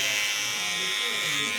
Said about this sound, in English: Right, so I'm just going to shave the top of his head.